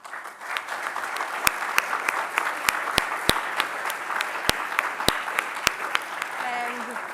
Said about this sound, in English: Let us all join in a round of applause to celebrate the success of